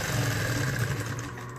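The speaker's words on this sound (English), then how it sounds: "we stitch in at least as far as the bias tape" A sewing machine runs steadily, stitching bias tape onto a towel, with a continuous close mechanical whir and no talking.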